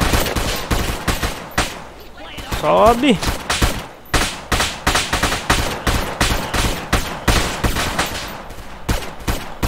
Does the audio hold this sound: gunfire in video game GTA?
yes